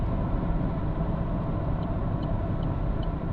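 Steady low road rumble and broadband cabin noise from an Opel Corsa-e cruising at speed, constant and even throughout with no talking.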